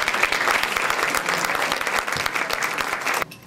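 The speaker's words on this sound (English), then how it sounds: "Please give a round of applause to all of our Community Service Award winners" A dinner crowd applauds Community Service Award winners with loud, dense clapping that holds steady and then cuts off abruptly near the end.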